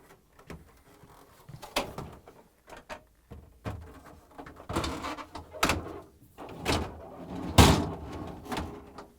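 Refrigerator freezer door on an LG/Kenmore French-door fridge being shut after a tray roller repair, with several knocks and clunks across the span and one louder thump near the end, no talking.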